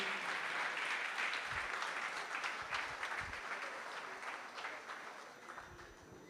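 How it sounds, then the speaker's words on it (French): An audience applauds at the UFOWARDS 2025 awards event. The dense, fairly distant clapping is loudest at the start and slowly thins and fades over several seconds, with a few sharper individual claps standing out. "je vous propose d'applaudir bien fort, très très fort pour cet homme"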